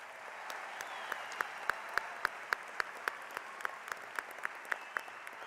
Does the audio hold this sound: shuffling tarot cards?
no